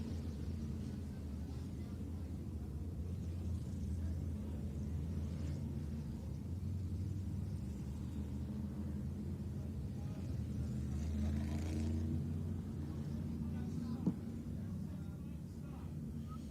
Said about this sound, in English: The field scuffing tires down the back straight